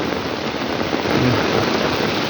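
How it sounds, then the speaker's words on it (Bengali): Heavy rain pours down in a dense, steady roar with no pauses, loud and close all around. "এই যে চারদিকে এতই বৃষ্টি যে কি বলবো, ছাতা পর্যন্ত ধরে রাখা যাইতেছে না।"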